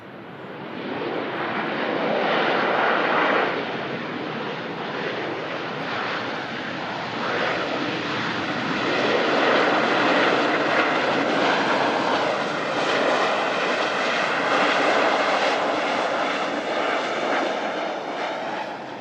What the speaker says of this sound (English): Ryanair 737-800 coming in from Faro.